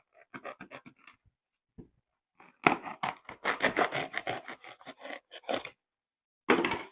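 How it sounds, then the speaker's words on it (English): A bread knife saws through foam in short rasping strokes, first in quick bursts, then a longer run of dense back-and-forth scraping with pauses between, close and fairly quiet, no voices. "I take the foam using the bread knife and measure over 5 inches, then cut this like that."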